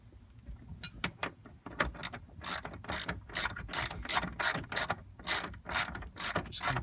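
A socket ratchet tightens a racing harness bolt in an EVO 9 MR with rapid clicking pawl bursts in repeated strokes, close and crisp, and brief pauses between the turns.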